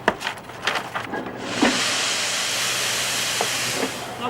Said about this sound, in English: I sort of like the shushy noise it makes when the steam comes out.